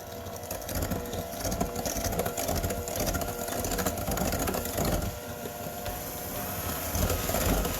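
A mixer creams brownie batter ingredients for Instant Pot brownies, a steady close mechanical whirring hum that carries on without pause.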